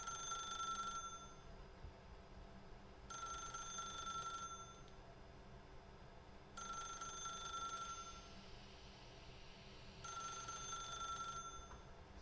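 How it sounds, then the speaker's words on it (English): A telephone rings repeatedly in The Stanley Parable video game, a bright electronic bell trilling in four evenly spaced bursts of about a second each, clear and steady over a quiet background hum. "If you can truly place your faith in another, then pick up the phone."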